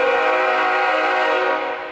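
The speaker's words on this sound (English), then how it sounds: "There's a big train." A big train passing near a large harbor at St. John's, heard as a loud, sustained tonal horn blast that holds steady and then fades slightly at the end.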